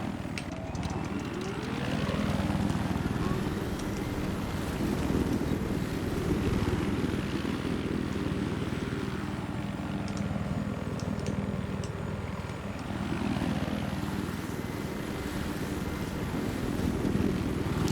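A helicopter in Battlefield 6 flies steadily throughout with a loud, continuous rotor and engine drone, holding near and constant with slight swells in pitch, and no voices over it.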